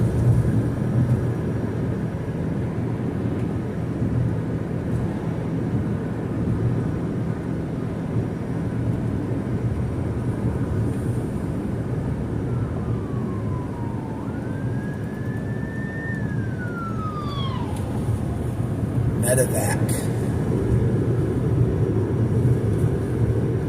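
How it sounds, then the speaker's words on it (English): A medevac helicopter drones steadily overhead, its engine rumble filling the background with a faint rising and falling whine partway through. "Medevac ambulance."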